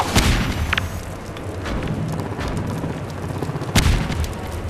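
In Half-Life 2, a grenade goes off with a couple of deep, booming blasts, a sharp one near the start and another just before the end, over a rumbling background of in-game noise.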